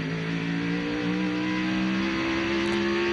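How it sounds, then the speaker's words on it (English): A NASCAR Craftsman race truck at Portland in 1999 opening up to full throttle after a downshift, a loud, steady engine drone with its pitch rising slowly over a few seconds. "he just has to wait on the truck and then he can go to full throttle"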